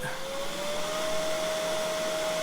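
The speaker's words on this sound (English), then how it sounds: "So I'm going to turn on the lathe." Wood lathe running at speed, close and steady, around 3,500 RPM while turning a PSI American Patriot pen kit blank. A continuous motor whine climbs slightly in pitch over broadband whooshing noise, with no talking.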